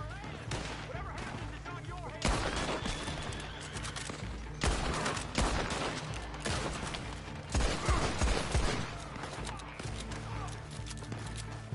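Gunfire in Red Dead Redemption 2 Online, a Call to Arms firefight: repeated bursts of shots and volleys in loud clusters, with horse hooves and whinnies mixed in and voices talking throughout.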